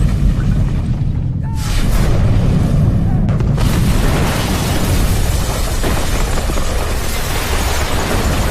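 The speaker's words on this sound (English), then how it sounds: "a dramatic explosion which collapsed the building" A loud, sustained roar of a dramatic movie explosion collapsing a TV station building: a dense rumbling blast with crackling debris that fills the whole stretch without letting up.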